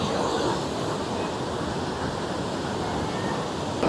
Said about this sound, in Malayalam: ഇത് നമ്മുടെ നർമ്മദ റിവർ കേട്ടോ. ഇതിങ്ങനെ ഒഴുകിയാണ് ഈ മാർബിൾ റോസിൻ്റെ ഇടയിൽ കൂടെയാണ്